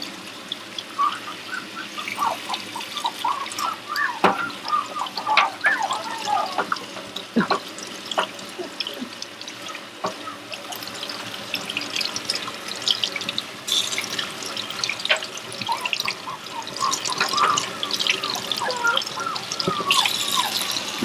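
Six-week-old Aussiedoodle puppy getting a bath under a running tap, a steady stream of water splashing into the sink throughout with dripping and trickling, up close and continuous.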